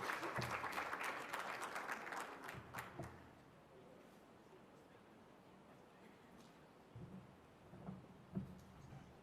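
Audience applause welcomes panelists onto the stage at a Churchill Club design panel. The applause is steady and fills the opening seconds, then thins to a few scattered claps and some faint room noise.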